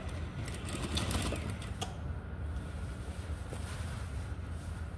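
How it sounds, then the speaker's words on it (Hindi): A sewing machine stitching a salwar belt runs continuously with a steady close whirring drone and a few light clicks near the start, no voices. "इस पर सिलाई लगा देंगे इस तरह"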